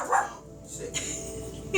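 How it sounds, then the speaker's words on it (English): An excited dog gives a few short, quick barks and yips in a home, with a person talking around them. "My dog is excited."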